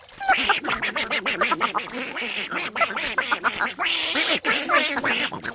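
Several ducks quack rapidly and loudly, close by, in a continuous overlapping chorus.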